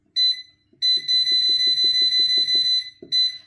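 Shrill electronic beeps sound from an air fryer set to 200 Celsius: one short tone, then a long sustained beep, then another short one, loud and close.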